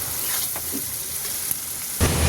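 Onions fry in hot oil for a katla fish curry, giving a steady close sizzle with faint stirring scrapes and a brief louder burst of crackling near the end.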